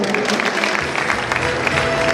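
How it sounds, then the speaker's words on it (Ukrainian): Applause from an audience at a charity awards event, a dense steady patter of clapping that fills the room throughout, with crowd noise mixed in. "Ваші оплески."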